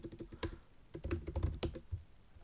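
Typing on a computer keyboard while entering a Google Cloud command, a rapid, uneven run of close, crisp key clicks with a few heavier strokes.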